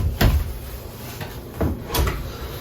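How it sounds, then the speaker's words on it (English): A sliding closet door in a 2022 Forest River Cedar Creek Cottage RV rolls open with a few quiet knocks and scrapes, soft and nearby, heard on its own. "And if we are to slide open the closet"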